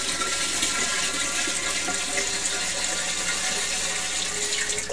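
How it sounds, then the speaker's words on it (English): Water rushes steadily while a Corny keg is rinsed out, a constant loud splashing hiss that fills the whole stretch with no talk. "Open them up right after I'm done using them, rinse them out good"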